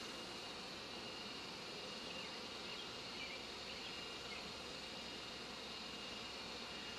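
Honey bees swarming around an open hive in a busy bee yard, a dense continuous buzz of many wings at steady volume, filling the air without speech.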